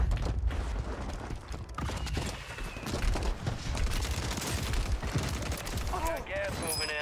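Loud, sustained gunfire in the video game Call of Duty Warzone: dense overlapping shots and bursts fill the whole stretch, with mechanical game clatter mixed in and a few synthetic chirps near the end.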